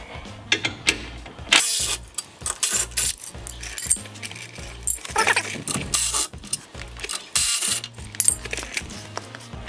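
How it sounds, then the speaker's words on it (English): A 16mm socket on a ratchet works loose the skid plate bracket bolts on a Jeep Wrangler JL, giving close metallic clicks and clanks in irregular bursts with brief pauses between them. "we're going to use a 16mm socket to remove the bolts from the skid plate mounting bracket"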